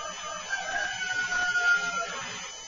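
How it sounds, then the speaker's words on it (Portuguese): A rooster crows in the background, its drawn-out call faint and distant against a steady wash of ambient noise, with no talk over it. "E esse galo aí no fundo, Lúcio?"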